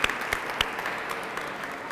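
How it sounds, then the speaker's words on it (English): At a city academy graduation ceremony, an audience applauds the Mayor, giving a short burst of clapping with a few sharp close claps over a soft continuous wash. "let's give her a hand of applause"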